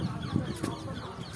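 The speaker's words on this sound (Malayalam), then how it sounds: "ഒരു കോഴി അതാ ഇറങ്ങി ഓടും." A chicken on a farm with vegetable plots, giving a few short clucks close by over faint background noise.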